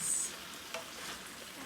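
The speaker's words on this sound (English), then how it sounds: "Then we just continue stir-frying these for about 30 seconds more." Vegetables and scallions sizzle in a stir-fry pan, a brief, soft hiss of frying with faint tossing.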